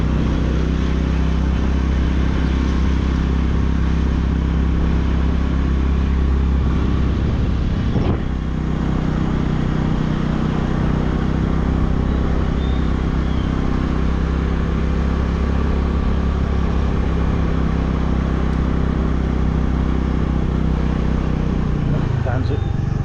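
A scooter rides along a mountain road near Pokhara, Nepal, with a steady engine drone and wind rumble filling the whole stretch, loud and continuous, easing slightly near the end.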